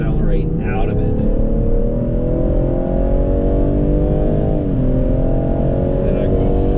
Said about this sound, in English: Braking and then hug this corner so that I can accelerate out of it.